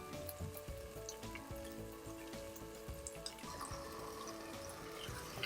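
Potatoes and mixed vegetables fry steadily in a pan for a milk-based potato, moong and pea curry, giving a dense, continuous sizzle with soft crackles and occasional stirring scrapes throughout.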